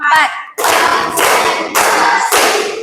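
Group hand-clapping game in an Indonesian classroom chant, an opening short vocal call followed by four loud bursts of clapping in an even rhythm, each burst a dense cluster of claps close by.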